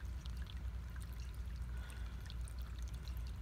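Warm water from a tub and a flushed toilet pours steadily through a drain pipe, a continuous rushing stream with no talk over it.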